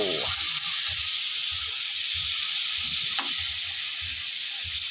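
Vegetables sautéing in a pan with a constant bright sizzle and rhythmic stirring strokes underneath, close and steady throughout.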